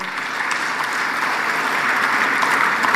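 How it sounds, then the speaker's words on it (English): A crowd at the Africa Energy Summit in Tanzania applauds an award winner, producing continuous, even clapping from many people that stays steady throughout, with no voices over it. "Let's give him a round of applause."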